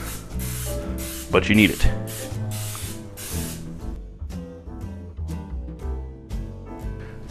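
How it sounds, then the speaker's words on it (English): Vegetable oil cooking spray hisses briefly into a baking pan in a short burst, while a person talks over it and music plays in the background. "introducing another ingredient. Vegetable oil spray."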